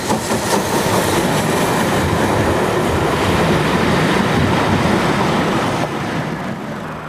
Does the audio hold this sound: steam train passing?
yes